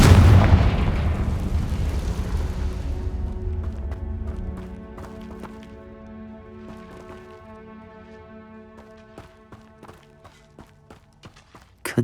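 A Confringo fire spell in Hogwarts Legacy lets out a loud, rumbling blast that fades over several seconds into ringing, reverberant tones. Faint scattered impacts follow, with no talking.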